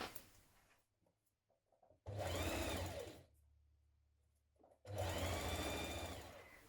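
A sewing machine stitches a 1.5 cm seam joining the front pieces of a knit top, two loud bursts of rapid mechanical whirring separated by quiet pauses.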